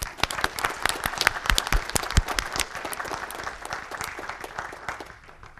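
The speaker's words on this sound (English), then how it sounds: "let's have a round of applause for Mike Harvey" Applause from a city council meeting audience in Jefferson City: dense, continuous clapping from a roomful of people that fades slightly toward the end.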